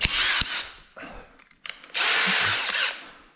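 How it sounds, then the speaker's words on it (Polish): A power drill whines in short bursts, then a longer steady run as it bores a hole through plywood, loud and close. "Mam to wiertło, nawiercę sobie"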